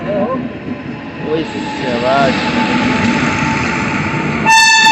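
A train hauled by a WAG-9 locomotive with LHB coaches passes close by, a loud continuous rumble with rising tonal whine, ending in a sharp multi-tone horn blast.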